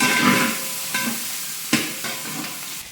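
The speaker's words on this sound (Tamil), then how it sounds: "பூண்டு எண்ணெயில் நல்லா வெங்காயம் வறுத்து" Garlic and onion frying in oil sizzle and hiss steadily, broken by a few sharper stirring scrapes and spatters.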